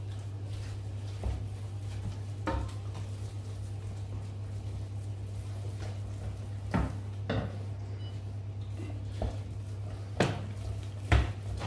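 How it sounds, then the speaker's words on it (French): Flour being stirred into choux pastry dough in a saucepan off the heat, with soft scraping and occasional knocks of a utensil against the pan over a steady low hum, quiet and intermittent. "On verse la farine en une seule fois. On commence à mélanger hors du feu."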